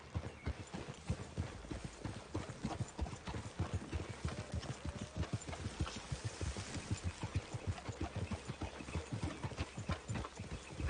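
Horse hooves clip-clopping on the ground in a Western video game, a quick, steady rhythm of close hoof strikes with a faint low engine-like hum beneath.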